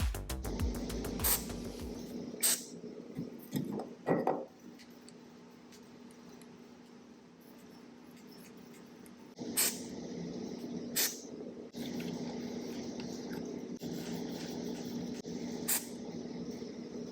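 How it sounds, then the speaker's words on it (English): An electronics cleaner aerosol fitted with a thin straw sprays into DJ mixer faders in short hissing bursts, several separate quiet squirts spaced apart, with soft clicks and handling noise between them. "Now I'm going to take my electronics cleaner with the little included straw, shake it up, and use it to clean these faders."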